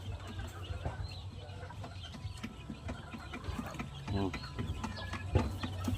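A friendly rooster close by gives soft clucks and short calls amid farmyard noise, with people talking nearby throughout.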